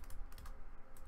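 Rapid clicking of keys on a computer keyboard as an IP address is typed in, a short close burst of uneven keystrokes with no voices.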